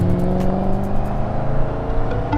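An Audi RS4 B7 engine driving, a loud, close sustained growl with a steady rising tone and rich harmonics from inside the car, with no talk.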